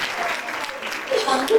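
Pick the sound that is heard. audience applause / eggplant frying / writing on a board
audience applause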